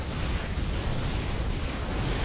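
A photon cannon being destroyed in StarCraft II, a loud continuous roaring blast of noise with rumbling low end, sustained through the short stretch without a clear separate pop.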